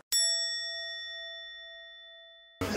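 A doorbell chime at a house in Japan rings once, a single bright bell strike whose clear tone decays slowly over about two and a half seconds before a short burst of noise at the end.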